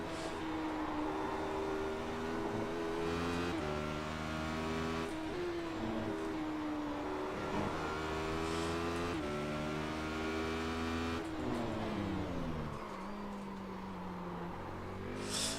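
Race cars circle Laguna Seca in the iRacing sim, with one engine revving continuously up through the gears and dropping at each shift, its steady whine up close and nobody talking.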